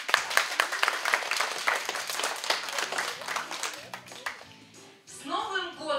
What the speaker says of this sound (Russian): Давайте поприветствуем друг друга дружными аплодисментами.